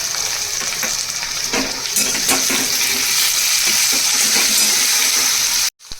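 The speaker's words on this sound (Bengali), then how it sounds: "আলুগুলো যখন একটু ভাজা ভাজা হলো তখন লঙ্কা বাটা দিয়ে দিলাম" Diced potatoes frying in a pan, a loud, steady hiss of hot oil with occasional stirring clatter, close up, cutting off abruptly just before the end.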